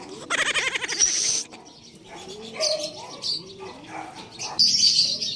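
A checkered racing pigeon lands at the loft during a pigeon race in Rosario, La Union, with soft coos and chirps, brief wing flaps at the start and end, and a voice speaking nearby.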